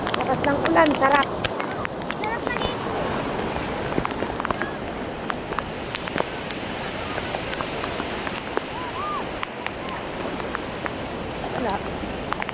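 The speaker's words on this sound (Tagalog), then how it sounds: "Lakas ng ulan, sarap." Heavy rain pours steadily, a dense broadband hiss with scattered drop patter that holds level throughout; a voice speaks briefly near the start.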